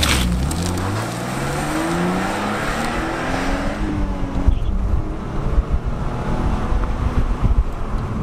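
A BMW E46 with a six-cylinder engine accelerates away, the engine note climbing through rising pulls under steady wind and road rumble, loud and close with no talking.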